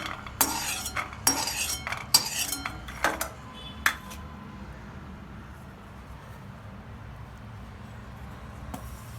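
Roasted peanuts being scooped from a pan onto a plate, a few scraping and clinking knocks of a utensil in the first four seconds, then quiet room tone.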